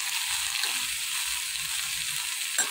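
Food sizzles steadily in a hot pan while salt is stirred through it, with soft scraping of a spoon or spatula under continuous frying hiss and no talking.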